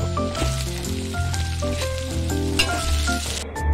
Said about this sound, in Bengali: এবার কিছুটা কুচনো পেঁয়াজ দিয়ে দেব।